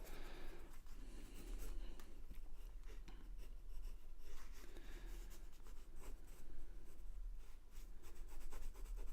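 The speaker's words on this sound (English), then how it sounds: "I've got a green pencil too, so let's put some green in here and see what happens." A green colored pencil scratches across paper during a quick portrait sketch, with close, continuous raspy strokes in an uneven rhythm and no talking.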